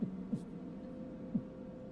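A voice imitates a slowing heartbeat with low, soft thumps spaced further apart, three beats over a faint steady hum.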